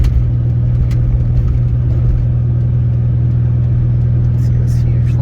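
A 2003 Toyota Prius engine, running again after restarting itself at about 42 mph, gives a steady, loud low hum and rumble with road noise, constant throughout with no clear revving.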